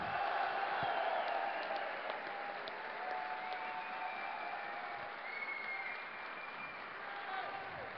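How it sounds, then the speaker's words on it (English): Crowd at a DreamHack 2010 StarCraft II tournament in Sweden's gaming arena applauds steadily for a Korean fourth-place finisher, a dense, continuous wash of clapping with some cheering, no speech over it. "Let's give a big cheer for OGS Top, coming all the way from Korea,"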